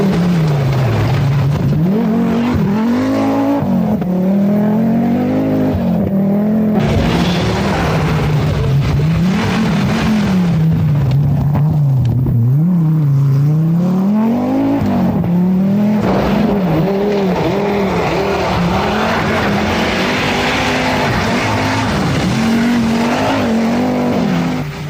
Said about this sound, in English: just over his shoulder was the big Quattro of Mikola, which just raced up the field